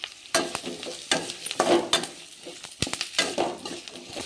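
Potatoes and onions fry in a pan, a steady sizzle broken by a spoon scraping and clicking against the metal in quick, uneven strokes.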